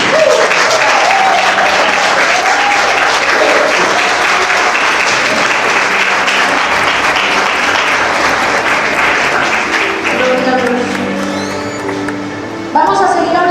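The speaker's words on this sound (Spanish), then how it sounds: "Fuertes esas palmas para Cristo" A church congregation gives loud, sustained applause for Christ: dense, continuous clapping from a large crowd close by, with voices in the mix, thinning slightly toward the end as a spoken voice comes through.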